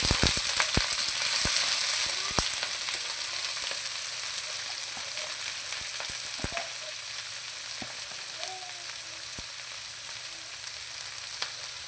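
Cabbage frying in a pan with onions, a steady bright sizzle throughout, with occasional clicks and taps of stirring, close and even, fading slightly over time.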